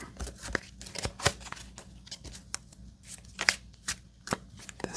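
A deck of playing cards is shuffled by hand for a classic solitaire game, a run of quiet, close riffles and soft slaps in an irregular rhythm with no talking.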